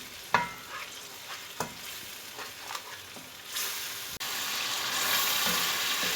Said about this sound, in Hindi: अब हम जो है मसाले को अच्छी तरह से भूनेंगे।